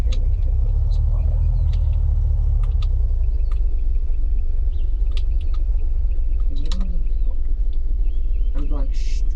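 A car in the survival video game Unturned drives along with a steady, loud low engine rumble that never lets up, while a player talks over it.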